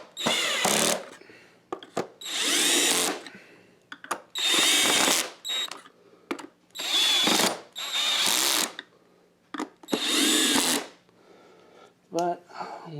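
Oreck upright vacuum cleaner with newly fitted used brushes runs in repeated bursts, motor revving up and cutting off several times, with a person talking in the quiet gaps between.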